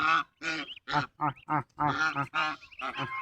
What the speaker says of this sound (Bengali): হাঁস নিয়ে হাঁসের বাচ্চাকে খাওয়াইতেছি